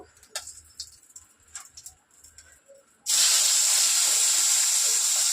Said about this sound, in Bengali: তো বেগুনটা একটুখানি এই তেলেই ভেজে নেব।